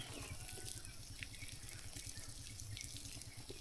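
Water trickles steadily onto a chayote plant being watered outdoors in the dry season, a continuous soft flow at moderate distance with no talking.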